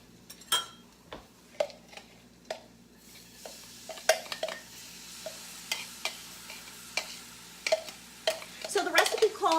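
Onion goes into a hot pan for Greek cooking, giving a soft sizzle under repeated sharp clinks and scrapes of a utensil against the pan, loud close taps every second or so with quiet background.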